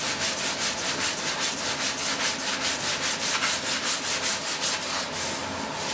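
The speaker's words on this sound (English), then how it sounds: "You need block sand all this." Steady back-and-forth rasp of block sanding on a large turbine-powered F-18 model jet part, with rhythmic strokes repeating continuously at close range and no talk.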